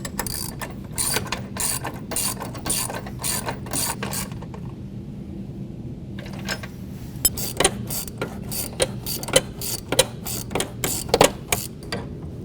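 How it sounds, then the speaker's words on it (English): A ratchet wrench with a 17mm socket tightens suspension link bolts, a fast run of close, crisp clicks in repeated bursts, with a short quiet pause partway through before the ratcheting starts again. "take a 17mm wrench and 17mm socket and tighten up both hardware sections of the"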